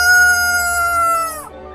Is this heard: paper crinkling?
no